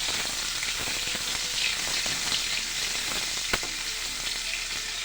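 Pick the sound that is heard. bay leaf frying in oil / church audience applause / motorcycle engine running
bay leaf frying in oil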